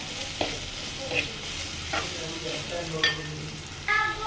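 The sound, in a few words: onions sautéing with salt in a pan for prawn roast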